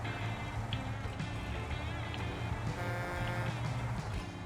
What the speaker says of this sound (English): Very sensitive horn on it.